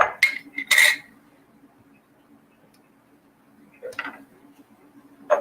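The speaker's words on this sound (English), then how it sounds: "Use a pint canning jar with a lid to put the avocado part I'm not using in" A glass pint canning jar and its metal lid clink and tick as they are handled in a quiet kitchen, with a few short sharp clatters separated by near silence.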